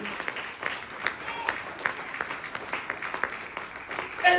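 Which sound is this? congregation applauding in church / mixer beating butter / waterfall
congregation applauding in church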